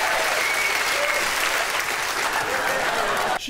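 Studio audience cheering and applauding at a comedy panel show, a loud dense wash of clapping and whoops that holds steady for the whole stretch before cutting off abruptly at the end.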